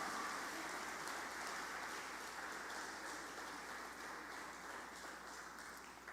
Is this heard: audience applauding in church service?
yes